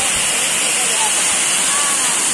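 Cold water pours steadily down the Kaaka Kaaki waterfall at Charanmal in Maharashtra, a constant, broad, loud rushing roar that fills the whole clip, up close with no pauses.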